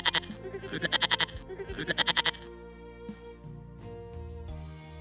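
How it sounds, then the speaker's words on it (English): A goat on a farm bleats in a series of rapid, pulsing calls, close and fairly loud, over soft background music, followed by quieter trailing sounds. "This is the goat."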